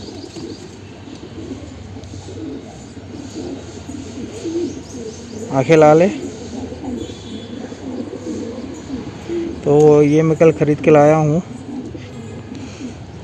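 An all-black wild pigeon with red eyes and black claws gives two bouts of soft, throaty cooing close by. Someone speaks throughout, over a steady background hum.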